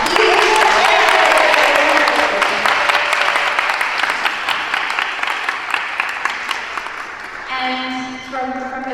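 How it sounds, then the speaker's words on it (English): A room full of people at a city pitch competition claps in sustained, loud applause that slowly tapers, with a voice beginning to speak over the last moments. "one very, very, very big round of applause"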